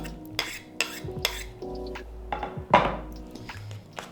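Steamed dried fruit mixed with lemon zest in a bowl for a Ukrainian poppy-seed cake, stirred with a spoon in a series of close clinks, taps and scrapes against the bowl, irregular and fairly loud, with no talking.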